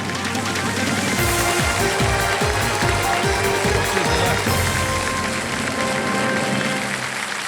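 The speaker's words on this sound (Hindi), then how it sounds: "बिल्कुल सही जवाब दिया है, तालियां बज जाएंगी" Game show studio audience applauding a correct answer on Kaun Banega Crorepati, a dense steady wash of clapping over music, with a voice speaking partway through.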